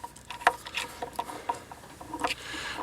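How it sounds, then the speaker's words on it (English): Small screws are being removed from guitar tuners, producing soft scattered clicks, scrapes and faint metallic ticks of the screwdriver and screws, close and quiet, with no talking. "And we take these little screws out"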